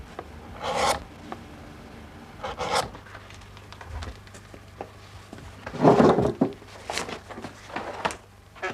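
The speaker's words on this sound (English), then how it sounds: "the chisel for skiving is used, again to achieve that close fit and finish" Leather being skived with a chisel at a saddler's bench, likely in saddle making: several short, close scraping strokes with pauses between them, a louder rasping burst near the middle, and no talk.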